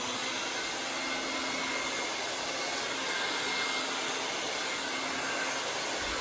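A hair dryer blows steadily and loudly while hair is smoothed with a round brush, a constant airy whoosh with no pauses running the whole time.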